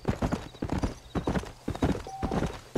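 In Red Dead Redemption, a horse's hooves clip-clop in a brisk, uneven rhythm of loud, close hits, with a brief neigh in the middle and no speech.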